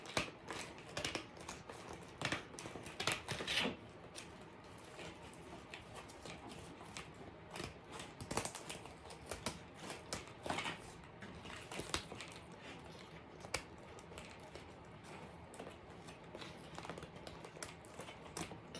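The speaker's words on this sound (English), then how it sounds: "I've been able to go ahead and cut that filter out of the cardboard encasing it" Regular scissors cut through a cardboard casing around a filter, giving faint, irregular snips and crunching clicks at close range in a quiet room.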